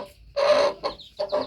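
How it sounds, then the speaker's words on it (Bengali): A hen sits in a coop with her chicks, giving a few close clucks: one longer drawn-out call followed by two or three shorter, softer clucks, with no talking. "মুরগির খোপে বাচ্চা নিয়ে বসে রয়েছে।"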